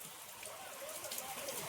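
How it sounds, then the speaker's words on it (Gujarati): Light rain falls steadily as a soft, even patter with a faint trickling quality, quiet and continuous for under two seconds. "આવો જેવો તેવો વરસાદ આવે છે"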